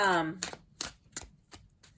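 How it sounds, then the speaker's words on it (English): A tarot card deck is shuffled overhand in a series of four or five sharp, close, evenly spaced slaps and riffles after a brief voice at the start. "But I can overhand shuffle this deck comfortably."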